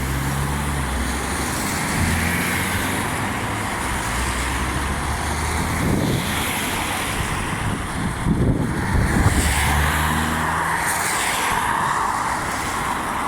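Road traffic rumbles continuously at moderate distance, with passing vehicles swelling through the steady roadway noise and some wind buffeting the microphone.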